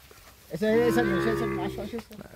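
A Sahiwal heifer on a farm lets out a single long, loud, close moo that fades into quiet background.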